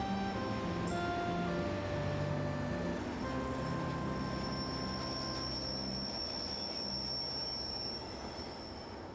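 The Royal Scotsman luxury train pulls into a station stop, steel wheels squealing loudly in long sustained tones over a steady rumble of rolling railcars, easing off as it slows.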